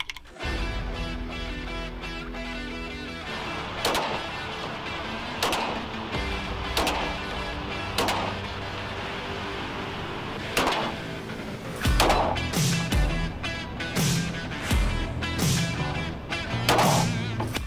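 CBC Polymatch ammunition fired at a shooting event launch in Brazil: roughly a dozen sharp gunshots at irregular intervals, some in quick pairs, over a steady background hum.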